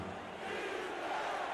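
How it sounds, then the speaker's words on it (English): Crowd at a high school football championship game chanting defense, a loud, dense, sustained roar of many voices filling the stands throughout. "Crowd chanting defense here."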